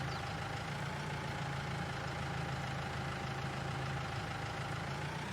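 Engine of a small New Holland tractor in Farming Simulator 22 runs at a steady, even idle, a low drone that stays constant and moderately faint, with no speech.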